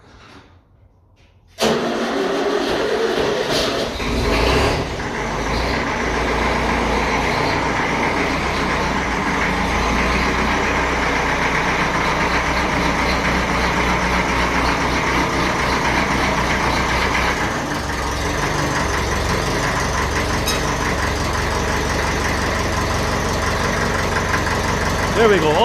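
A 1954 Ferguson 20 TEF tractor engine cranks briefly, catches and settles into a loud, steady idle with a knocking diesel-like chug, running close and unbroken for over twenty seconds.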